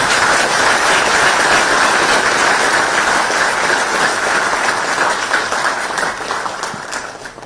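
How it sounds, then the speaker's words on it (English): An audience at a university event in Texas breaks into sustained applause, a thick wash of clapping that stays loud for several seconds and then gradually thins and fades toward the end. "this needs a big, big round of applause"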